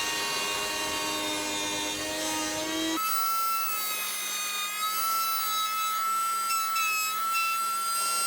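Router table with a 12mm spiral bit cutting mortises in reclaimed wood, a loud continuous high whine close by that shifts pitch partway as the bit engages the workpiece.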